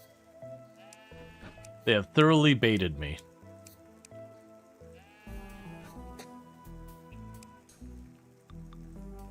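Sheep in the video game Necesse give a short burst of bleats, loud and wavering, while a voice talks over soft game music before and after.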